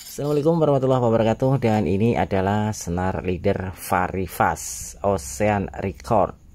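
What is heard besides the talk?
No distinct noise like a dog, phone or traffic.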